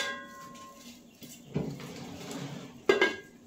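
A metal lid is set down on a pot of potatoes and cauliflower simmering with turmeric and salt, heard as a couple of close clanks and a rattling clatter against the rim, with quiet kitchen noise around it.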